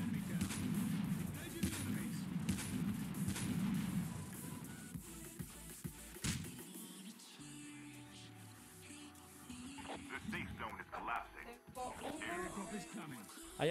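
Sharp gunshots and heavier booming fire ring out at intervals among video game sounds, with people talking throughout.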